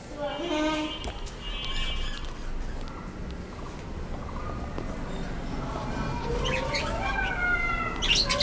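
Birds chirp and tweet repeatedly, with quick high trills and calls scattered through the clip and a busier flurry near the end, over a steady background hum.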